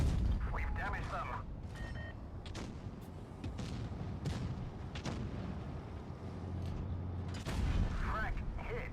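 Booming cannon shots and hit impacts from the Object 263 tank destroyer in World of Tanks, with heavy rumbling bursts. A voice talks over the battle noise.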